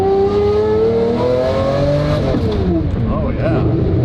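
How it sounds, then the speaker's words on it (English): A Lamborghini Murcielago on lift-kit suspension drives along, its engine note rising and falling steadily and loud, with tonal harmonics sweeping as it pulls, close and continuous. "Well, it feels good to be back behind the wheel of the Murcielago."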